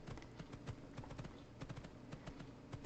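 Horse hooves in the online game Horse Isle 3 clop in a quick, regular galloping rhythm, faint and close, with evenly spaced beats in short runs.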